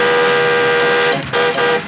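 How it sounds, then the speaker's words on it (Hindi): A car horn honks from a vehicle close behind in traffic, one loud sustained blare that breaks into shorter toots near the end. "ये हमारे पीछे वाला हॉर्न क्यों बजा रहा है?"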